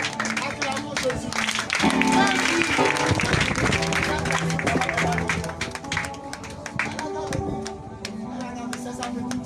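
A church congregation claps and cheers during a customary wedding celebration at a temple in Koumassi, with dense, sustained applause over music and a crowd of voices for the whole stretch.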